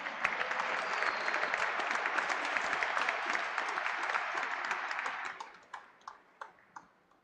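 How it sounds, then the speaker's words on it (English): A graduation ceremony audience applauds the graduates, a full sustained round of clapping that thins out near the end into a few scattered, separate claps. "Audience, please give the graduates a resounding round of applause."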